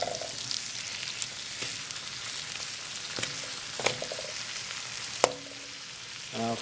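Onions and tomatoes for samosa stuffing cook quietly in a pan, giving a soft, steady sizzle with occasional light clicks and scrapes of stirring.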